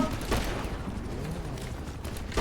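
Gunfire in a shooter video game, a dense continuous fusillade of shots with sharper bursts near the start and end, running under a busy mix.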